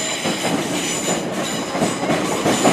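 A Class 455 electric multiple unit for London Victoria runs through Clapham Junction, its steady rolling rumble and rail noise loud and close throughout with faint wheel clatter.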